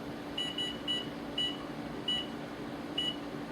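An oven control panel beeps as the oven is switched back on and set to 375 degrees: about six short, high electronic beeps at uneven intervals over a steady low hum.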